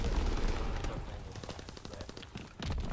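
Gunfire from a shotgun in the Call of Duty WW2 video game, heavy booming blasts mixed with a busy rumble of battle noise throughout.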